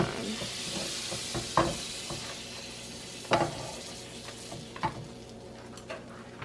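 French toast sizzles in butter in a frying pan, a steady crackling hiss broken by a few clicks and taps from a utensil against the pan.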